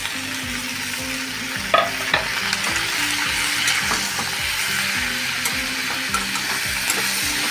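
Onion and chopped tomatoes sauté in a hot pan for dhaba-style shahi paneer, a steady loud sizzle with a spoon stirring and scraping in a repeated rhythm, no voices.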